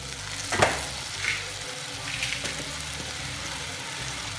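Onions and tamarind sauté in a hot pan for onion pachadi, a close, steady sizzle broken by brief scraping stirs.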